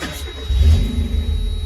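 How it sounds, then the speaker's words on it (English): A Mazda Miata engine cranking and catching, a short whir that settles into a steady low idle rumble close by, with no talk over it. "Start your car."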